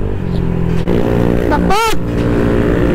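A Honda Click 125 motorcycle engine runs with a loud, steady drone close by, and a brief shouted voice rises over it partway through.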